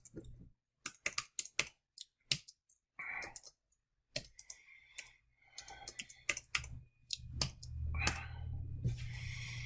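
Python code is typed on a computer keyboard in irregular bursts of close, crisp key clicks with brief pauses, followed by a steadier stretch of quieter clatter.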